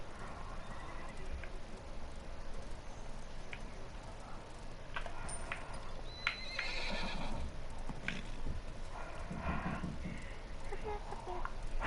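A horse in the Realm Royale video game whinnies and its hooves clip-clop in a brisk rhythm, moderately loud over a steady game background with faint voices.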